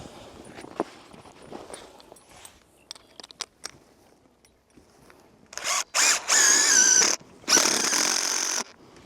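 A power drill drives screw pegs into the ground outdoors, whirring loudly in several bursts after quieter shuffling and handling noises.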